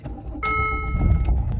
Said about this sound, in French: Laissez-moi juste mettre le contact de la voiture.